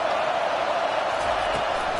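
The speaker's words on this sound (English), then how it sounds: "Here comes the crowd trying to make it tough on third and long." A college football stadium crowd roars in a steady, loud wash of noise on third and long, with voices blended into the din.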